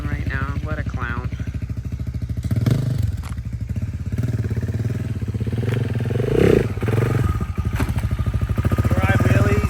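A 2024 KTM 690 SMC R single-cylinder motorcycle being ridden, its engine pulsing in a close, loud, continuous thrum with rises in revs, clattering bumps and voices mixed in.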